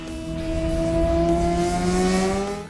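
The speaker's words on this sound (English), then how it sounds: "you can hear these bikes going by at a very high rate of speed" Motorcycles scream past at very high speed on a race track, a loud rising and falling engine whine that swells over about two seconds and fades away, with no talk over it.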